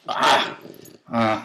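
Dog during a live webcam broadcast, making two close, loud growling, whining noises separated by a brief gap, the first rougher and longer, the second more tonal.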